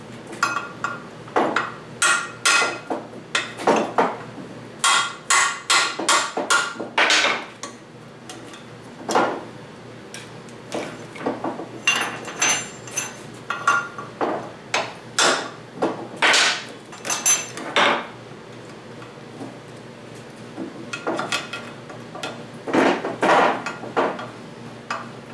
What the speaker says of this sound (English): I just took a hammer and screwdriver and knocked the other 2 little tiny pieces out of there.